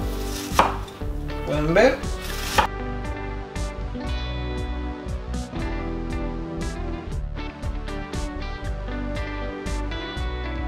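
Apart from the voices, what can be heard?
knife cutting shrimp on a board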